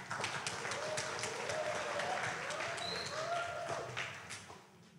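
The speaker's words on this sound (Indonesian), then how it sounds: "Mari kita sambut bersama dengan tepuk tangan yang meriah." An audience at a talk show event on online gambling and mental health gives lively applause. It tapers off toward the end, with a few voices heard over the clapping.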